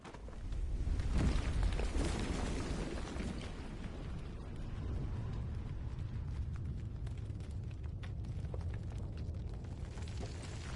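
A head explodes in Final Fantasy XVI during the fight against Bahamut, heard as a sudden roaring blast that settles into a long, dense rumble.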